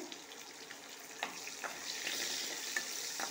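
Chopped onions, fenugreek seeds and bay leaf fry in a pan for spicy suran sabzi, giving a soft, steady sizzle with occasional small pops and light crackles.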